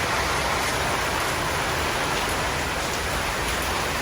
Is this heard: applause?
no